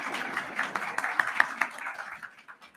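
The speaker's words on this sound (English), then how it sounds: "Please give a round welcome of applause" An audience applauds a chief guest arriving at a closing ceremony, the steady crowd clapping heard at moderate distance and fading out toward the end.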